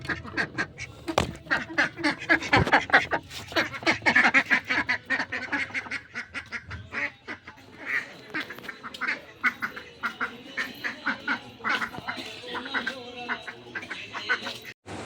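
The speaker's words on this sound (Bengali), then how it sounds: "পুজো দিয়ে উঠে আমি হাঁসগুলোকে ছেড়ে দিলাম" A flock of ducks, just let out, quacks continuously and close by, in dense overlapping bursts.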